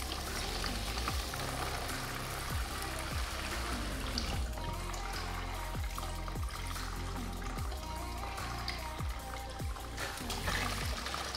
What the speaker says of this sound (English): I'm just gonna let that drip right off in there.